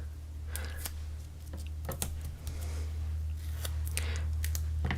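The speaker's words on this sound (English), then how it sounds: "These are titanium scissors, and they tend to not stick to things so bad." Titanium scissors snip through sticky foam tape in a series of sharp, irregular cuts over a steady low hum, close and fairly quiet.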